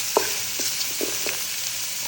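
Minced meat stirred into onions frying in oil for a Filipino-style eggplant dish: a dense, steady sizzle with a few soft spoon scrapes, close and continuous.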